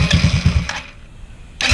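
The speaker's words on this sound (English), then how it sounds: "But it's just not cranking all the way over yet." A GY6 180cc scooter engine cranks in a quick chugging rhythm for about half a second, pauses, then churns again briefly without fully turning over, close and loud.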